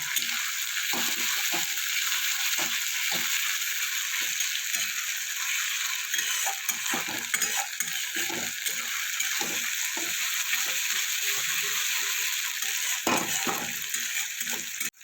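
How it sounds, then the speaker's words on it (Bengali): Ginger and garlic frying in a pan with okra and potatoes for aloo bhindi, a steady bright sizzle broken by frequent light stirring scrapes and taps, close and with no talking. "আদা রসুনটা একটু ভেজে নিতে হবে যতক্ষণ না কাঁচা গন্ধটা যায়"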